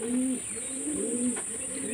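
Pigeons kept at a home coo softly in short repeated phrases, close by, with no other sound around them.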